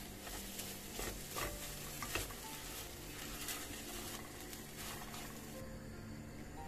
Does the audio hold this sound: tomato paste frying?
yes